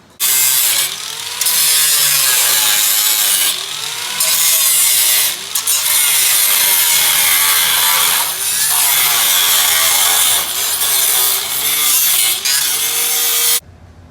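Rusted metal flange is cut out of an Opel GT body during restoration with a loud power tool. The cutting comes in long harsh grinding bursts with short pauses between them.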